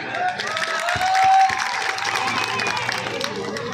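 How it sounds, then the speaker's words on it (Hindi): An outdoor political meeting crowd breaks into clapping and scattered cheers, a sustained burst of applause from many hands at moderate distance. "बजाओ ताली"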